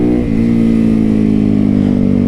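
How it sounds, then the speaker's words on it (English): A custom 2019 Yamaha YZ450FX built into a street-legal supermoto motorcycle runs close and loud, with a quick blip early on before settling into a steady, throbbing engine note. "This is a custom 2019 YZ450FX that I made into a street legal Supermoto."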